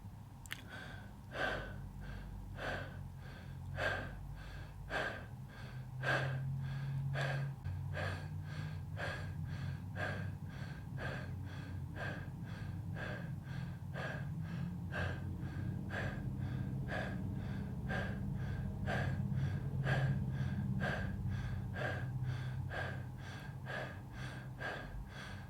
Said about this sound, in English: Let's take these 25 connected breaths together.